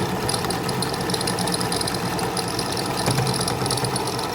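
Domestic sewing machine stitching a small coin purse with a zipper, a close, steady mechanical hum and rapid needle chatter running continuously without pause.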